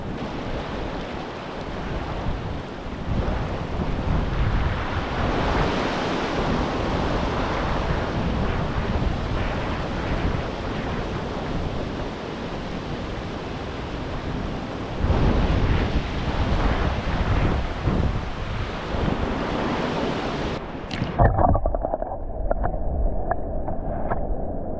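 Ocean waves crash against rocks in a continuous rough wash, loud and close, with heavy wind buffeting the microphone before the sound cuts off abruptly near the end.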